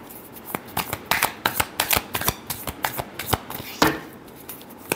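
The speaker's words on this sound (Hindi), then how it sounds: "last shuffle" Tarot cards being shuffled by hand, a close run of rapid crisp riffling slaps and flutters over about five seconds, with no talking.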